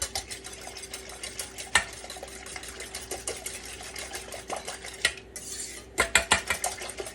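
Eggs, milk and salt being whisked in a bowl, a steady run of quick metallic clinks and scrapes against the bowl with a few louder knocks, close up and alone.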